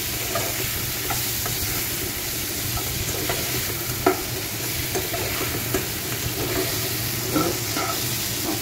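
Chopped raw tomatoes are stirred in oil in a pot for an Assamese rohu fish tenga, with a steady loud sizzle and repeated scraping strokes throughout.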